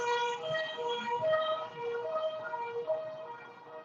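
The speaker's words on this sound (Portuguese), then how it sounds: "está passando uma ambulância aqui próximo" An ambulance siren passes nearby outside a classroom, its wailing tones steady and fairly faint for about four seconds with no speech over it.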